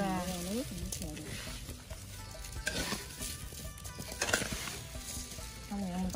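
Coconut jam mixture being stirred in a pan outdoors, a soft scraping and sizzling churn that carries on steadily while a person talks over it.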